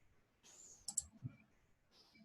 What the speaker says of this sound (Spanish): simplemente doy clic en la barra